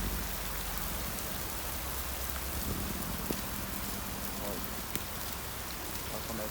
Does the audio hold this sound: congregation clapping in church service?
no